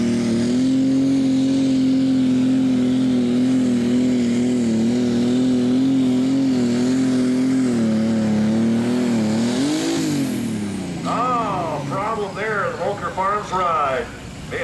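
A light limited super stock pulling tractor at a tractor pull roars with a loud, sustained engine drone that rises in pitch near the end, as if popping out of gear, followed by an announcer talking over the fading engine.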